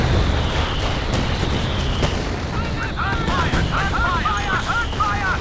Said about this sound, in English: These heavy bombers are going to come in.